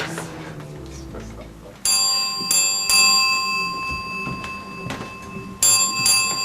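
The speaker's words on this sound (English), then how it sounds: "I've been standing here ringing this bell for 7 minutes and 40 seconds." A service bell at a counter in a comedy skit is struck again and again, each bright ding ringing on loudly amid background noise and some talk.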